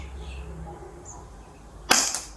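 A KWC 1911 Match airsoft pistol fires a single sharp shot near the end, a brief loud snap with a short rattling tail after quiet room tone.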